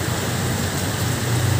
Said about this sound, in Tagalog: Kaso lakas ang ulan